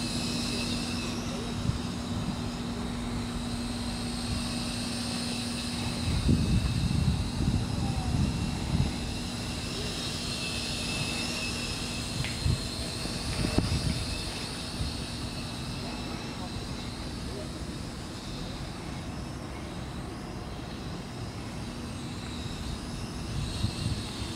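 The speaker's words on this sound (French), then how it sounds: "Donc c'est un drone qui est très stable, hein, qui est très rapide en même temps." A 998 V2 quadcopter drone flies nearby with a steady high-pitched whine and a low hum that persist throughout, while a person talks over it.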